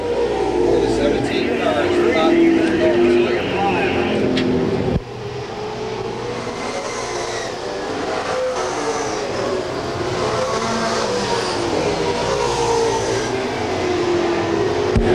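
Late model stock cars roar around Lakeport Speedway during a Nor-Cal main event, a Chrysler LeBaron among them, with a loud sustained engine drone that swells and fades as cars pass, under a commentator's steady talk.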